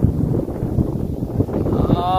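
Gusty wind on Najandig Peak in Zamboanguita, Negros Oriental, buffets the microphone in low, rushing bursts, with a voice speaking faintly underneath.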